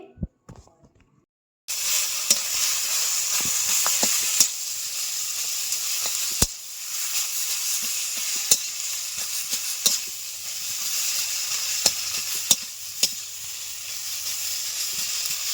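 A steady, loud sizzle of grated potatoes frying in hot oil in a wok begins abruptly and continues, with occasional clicks and scrapes of a utensil.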